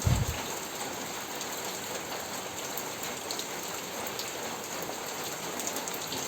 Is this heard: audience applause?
no